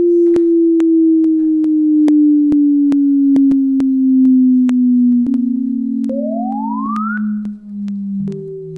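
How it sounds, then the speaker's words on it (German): Gravitational wave signal rendered as sound: a loud, steady low sine tone that slowly drops in pitch, with sharp regular clicks and a rising chirp sweep near the end. "Dann hören Sie diese Gravitationswellen, dann kommt das erste Chirp-Signal"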